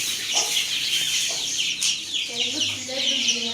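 Free-range desi chickens cluck and murmur steadily nearby in a farmyard, soft repeated calls layered over a busy background of birds and faint voices.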